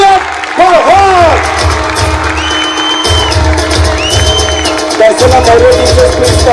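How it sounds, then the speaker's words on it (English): Audience at a school teacher felicitation ceremony clapping and cheering for a teacher, a steady loud wash of applause with scattered shouts and whoops from a crowd, lasting the whole stretch without a pause. "Please give a big clap for her."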